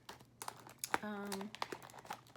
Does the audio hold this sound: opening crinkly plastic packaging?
yes